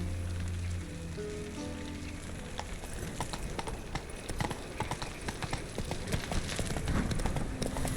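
Hooves of Roach, the horse in The Witcher 3: Wild Hunt, clop steadily and grow busier and louder, with a hissing, rain-like wash around them.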